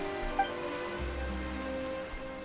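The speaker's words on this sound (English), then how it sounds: "Why is it raining all of a sudden?" Sudden rain in the video game Genshin Impact: a steady wash of rainfall hiss under sustained musical tones, continuous and even throughout with no voices.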